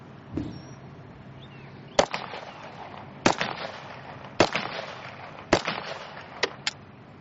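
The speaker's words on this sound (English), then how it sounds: "let's fire the M1 Garand" Several sharp, loud outdoor gunshot cracks from an M1 Garand rifle during a 1944 close-assault reenactment at Camp Mabry, Austin, Texas, fired singly at irregular intervals over about seven seconds with echo tails between shots.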